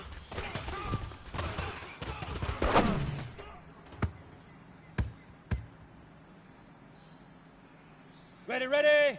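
Gunfire in a PS4 video game: a dense flurry of shots at first, then a few isolated sharp reports spaced apart, with voices talking at the start and at the end.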